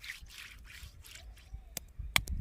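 Water is poured onto a newly made hollow concrete block at a block factory, giving soft splashing and dribbling over a faint hum, followed by a few sharp clicks and taps.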